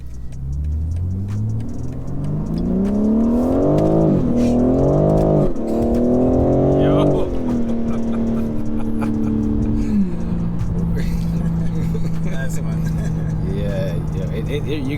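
A 2021 BMW G82 M4 Competition accelerates hard on the road, its engine note climbing through the revs, dipping briefly at gear changes, then settling into a steady cruising drone, loud and close from inside the car.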